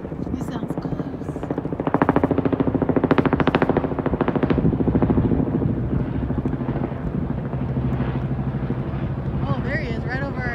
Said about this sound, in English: Another helicopter. He sounds close.